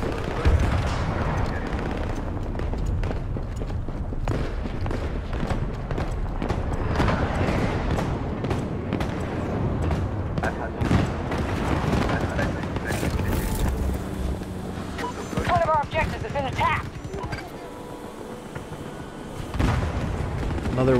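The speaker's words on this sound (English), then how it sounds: "I'm taking fire." Battlefield 2042 gunfire crackles in dense, continuous bursts around a player securing an objective near a space shuttle, with booms and wind-like rumble over a loud, busy battlefield.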